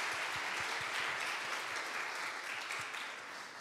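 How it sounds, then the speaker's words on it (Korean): A church congregation at a joint Sunday service claps in sustained applause of encouragement, a dense wash of many hands continuing steadily before easing slightly toward the end, somewhat distant in a large room. "우리 유아부, 초등부, 유스, 청년들 모두에게 힘내라고 격려의 박수 한번 할까요?"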